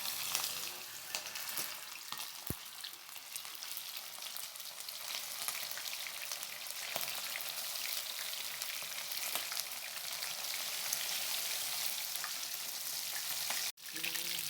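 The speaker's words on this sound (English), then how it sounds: "So it's time to do the frying." A fish head fries in hot oil in a wok, giving a dense, steady sizzle and crackle that holds close and even throughout, with a couple of sharp clicks and a brief dip near the end.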